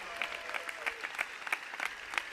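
Applause from the audience at a Unidos Podemos campaign-closing rally, a steady crowd clatter with rhythmic surges of clapping, moderately loud and continuous, no voices over it.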